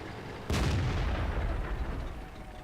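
A tank cannon fires in a World of Tanks battle, one sudden loud boom with a sharp crack at the onset followed by a long rumbling tail that slowly fades, with no talking.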